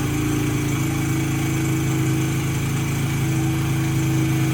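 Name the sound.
XR70 motorcycle with BBR 88cc big bore kit idling after kick-start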